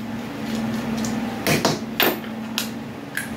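Screws being removed from the casing of a TV digital converter box: a few distinct metallic clicks and scrapes, close up, over a steady low hum.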